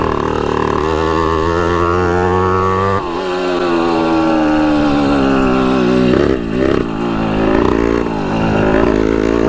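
A 1980s Honda CR80 two-stroke dirt bike with a slightly slipping clutch runs steadily nearby, a loud buzzy drone that dips briefly around three seconds and again near six, heard alone with no talking.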